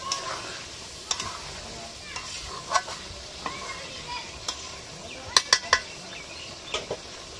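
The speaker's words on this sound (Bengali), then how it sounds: "অল্প একটু জল দেবো, দিয়ে একটু নাড়াচাড়া করে আমি আবার ঢেকে দেবো।" Duck meat curry being stirred in a pot after a splash of water, soft low sizzling with scattered sharp clinks and scrapes of a spoon against the pan, fairly quiet and close.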